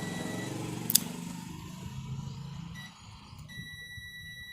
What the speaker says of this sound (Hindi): तो यहाँ पर आप सुन पा रहे हैं, यहाँ पर बीप सुन पा रहे हैं।